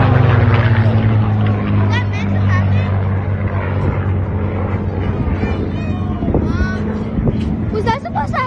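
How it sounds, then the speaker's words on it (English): A four-bladed propeller aircraft flies at an airshow in Dallas, its steady engine drone loud and continuous throughout, with crowd voices and chatter layered over it. "The first four-bladed propeller with more power."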